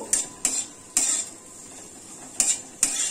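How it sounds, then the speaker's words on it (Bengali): Chopped onion goes into a pan for a cauliflower dish, with about five sharp metallic clinks and scrapes of a utensil stirring against the pan over a quiet background, with no talking. "যে পেঁয়াজটা কেটে রেখেছিলাম সেই পেঁয়াজটা দিয়ে দেবো। দিয়ে একটু নাড়াচাড়া করব।"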